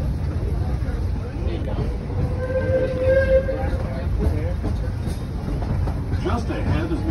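A Disneyland park train rolls along the rails in a steady low rumble, with a brief whistle-like tone midway and voices talking over it throughout.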